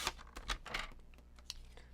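Cardstock trimmed for Christmas card making, heard as a series of short, crisp scraping and clicking strokes close by, busiest at the start and then thinning to sparse quiet taps.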